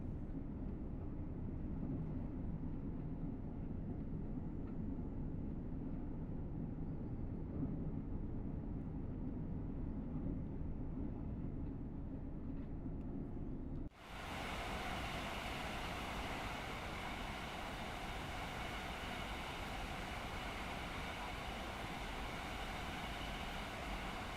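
A special edition train in blue and yellow livery passes in Train Sim World 6, a steady loud rolling rumble that abruptly turns brighter and fuller partway through, with no talking.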